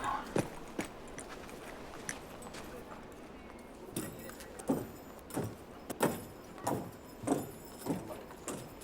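Horses' hooves clop on a road in a Western set among bandits, a string of sharp, fairly close knocks that come sparse at first, then in a steadier rhythm over faint background noise.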